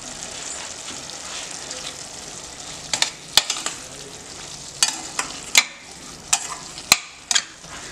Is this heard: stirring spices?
yes